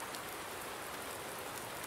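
Steady, faint rain falls in the Farming Simulator 19 video game, a soft continuous hiss with no voices or other sounds over it.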